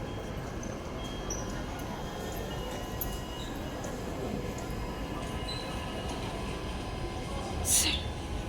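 A metro train stands at a station platform with a steady low rumble and hiss of rail machinery, a faint ticking, and a short high squeal near the end, all under automated announcements.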